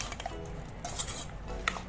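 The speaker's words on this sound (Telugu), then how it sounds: "బాగా మిక్స్ చేసుకుని పచ్చడిని ఇలాగా." A spoon stirs and scrapes prawn pickle around a pot in short, close, soft clinks and scrapes, with no voices over it.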